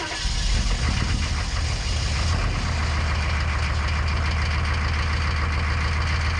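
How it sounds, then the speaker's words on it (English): A 1-ton diesel pickup cold-starting on a freezing morning: a short cranking burst, then the engine catches into a loud, rough, knocking idle that runs steadily to the end. "It was time for a real cold start."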